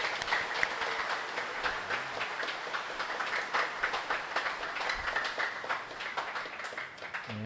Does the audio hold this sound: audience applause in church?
yes